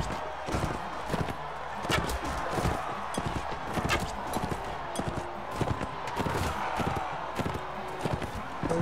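Horse hooves clip-clop rapidly and steadily in a Mount & Blade Warband battle, a continuous galloping patter of many sharp hits at moderate level with some busy background noise.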